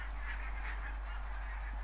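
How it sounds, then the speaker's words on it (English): Distant barnacle geese honk in a dense, overlapping chorus at a wetland in mid-October, over a steady low rumble of wind or background noise. "I saw the barnacle geese getting ready for takeoff."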